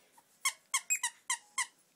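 A rubber squeaky toy played with by an 11-month-old blue-gray Chihuahua gives six or seven sharp, bright squeaks in quick irregular bursts, close and clear against near silence.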